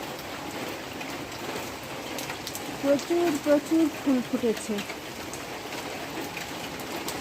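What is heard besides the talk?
rain falling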